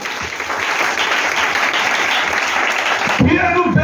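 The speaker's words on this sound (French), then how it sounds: "Acclamons Jésus." Church congregation applauding and cheering in praise of Jesus at a worship service, steady loud crowd clapping throughout, with a voice speaking over it near the end.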